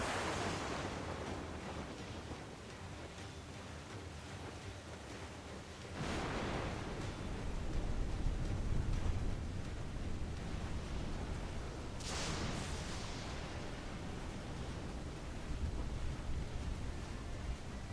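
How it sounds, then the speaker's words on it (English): Roaring storm at sea in the video game Assassin's Creed 4, with a waterspout nearby: continuous loud rushing wind and surf noise that swells in two heavy surges, no voices. "Water spout, man! Stay wide!"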